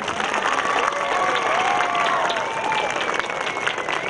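Audience applause in a university hall at a debate event, a loud sustained wash of many hands clapping with a faint murmur of crowd noise beneath, holding a steady level throughout.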